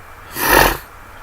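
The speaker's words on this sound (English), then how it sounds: "My allergies are kicking in, so I apologize for the sniffling here." One quick, close sniffle through a congested nose from allergies, a short breathy rush swelling and fading within about half a second, alone against a quiet background.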